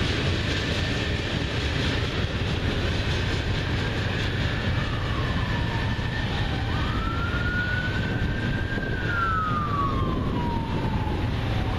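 A CN freight train passes close by at Ladysmith with a constant loud rolling roar, and a wailing siren rises and falls in the background.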